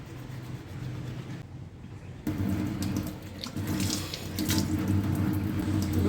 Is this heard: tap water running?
yes